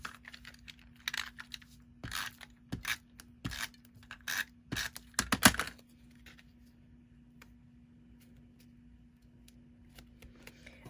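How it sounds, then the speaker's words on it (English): An adhesive tape runner rolls and clicks over paper hearts in a quick run of short, dry scrapes and taps for about six seconds, then fades into quiet room hum. "we're just going to take our snail adhesive and apply it to our hearts"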